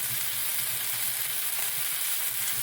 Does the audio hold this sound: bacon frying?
yes